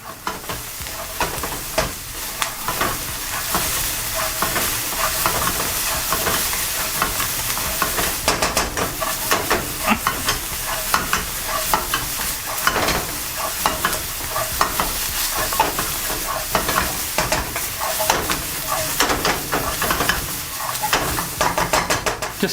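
Seasoned steak bites with spring onion and red chili are stirred in a hot pan, giving a dense, loud, continuous sizzle with constant rhythmic scraping and tossing, close up and without talk.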